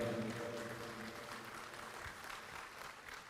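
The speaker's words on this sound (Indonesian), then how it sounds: "berikan tepuk tangan kepada Bapak Susilo Bambang Yudhoyono" A hall audience at an Indonesian Democratic Party gathering breaks into sustained applause for the party's chairman and former president, a dense, even clatter of many hands heard from a moderate distance.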